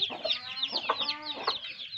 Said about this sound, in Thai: อันนี้เป็นลูกไก่นะครับ